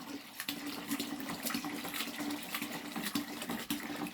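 Water pours from a container into a caustic mixture being made into bleach, a continuous close splashing and gurgling with small bursts of spatter.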